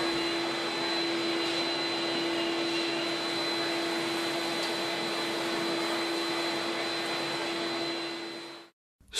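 A HEPA filter vacuum cleaner runs steadily while clearing debris and dust from a planer thicknesser table and bed in a woodworking workshop, a loud continuous whine and whoosh with a constant tone, then it cuts off at the end.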